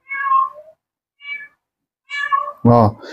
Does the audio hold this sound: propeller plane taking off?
no